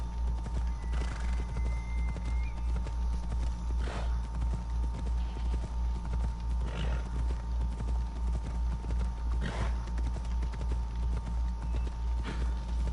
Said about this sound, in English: my horse is gonna run really slow